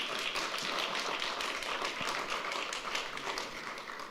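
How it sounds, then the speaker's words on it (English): An audience at the JSE breaks into steady applause, many hands clapping in a dense, even patter for a few seconds at moderate distance, without talk over it. "I think that deserves a round of applause."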